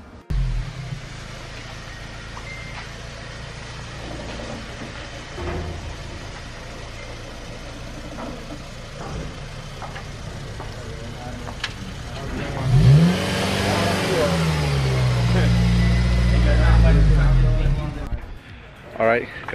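A Honda Civic Si revs on a dyno, its engine idling under talk at first, then climbing into a loud, sustained rising rev near the end before dropping off.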